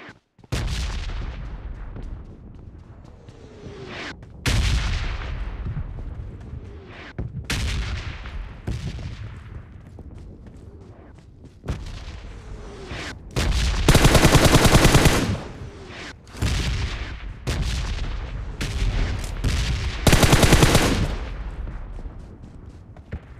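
Gunfire in a shooter video game: repeated loud bursts of automatic weapon fire with short pauses between volleys, some longer sustained sprays, over a quiet background.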